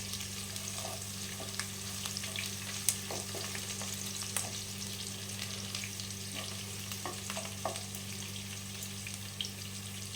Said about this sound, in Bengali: পেঁয়াজটা কিন্তু ভালো করে লাল করে ভেজে নেবেন